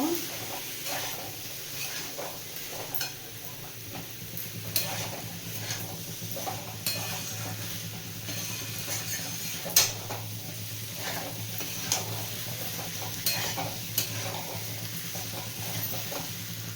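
Boiled, drained kabuli chickpeas stir-fried in mutton fat for ghugni, a steady soft sizzle with repeated scrapes and light clinks of a spatula against the pan, close and alone without talk.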